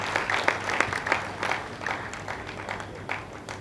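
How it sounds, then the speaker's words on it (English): A room full of people claps steadily, moderately loud and close, with no voices standing out. "A round of applause again for Anedi."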